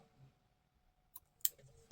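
Scissors snip through crochet yarn after a left-handed filet crochet granny square doily, heard as a couple of sharp close clicks and a crisp cut in an otherwise quiet room.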